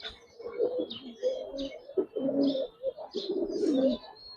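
Silver-coloured pigeons coo in a steady series of soft, throaty calls, close by and clear, with faint chirps from other birds above them.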